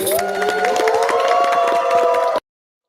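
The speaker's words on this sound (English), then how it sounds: "So I want to give a big round of applause for her once again." A studio audience applauds and cheers for a show host, a loud, dense wash of clapping and crowd noise over a sustained musical tone that stops abruptly after about two and a half seconds.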